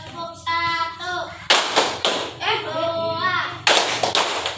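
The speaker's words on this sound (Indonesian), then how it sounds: "Sekarang coba minta tepuk semangat." A group of Indonesian schoolchildren does a rhythmic spirit clap in a classroom, with bursts of sharp clapping between stretches of a teacher's voice.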